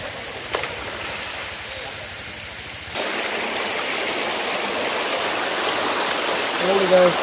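Flowing stream water near Talakona waterfall in a forest, a steady broadband rush that grows fuller and louder partway through and continues without a break.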